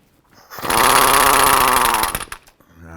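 Power tool, likely an impact wrench, removes the last drive shaft bolt under a 2005-10 Jeep Grand Cherokee: one loud, close, rattling burst of about one and a half seconds, then quiet, with no talk.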